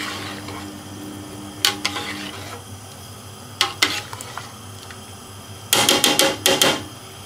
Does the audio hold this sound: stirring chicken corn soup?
yes